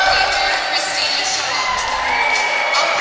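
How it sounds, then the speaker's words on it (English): Crowd cheering and whooping steadily at a netball match between home nations at the Netball Europe Open Championships, a loud, continuous roar of supporters with shouts rising above it throughout. "And lots of noise in the crowd."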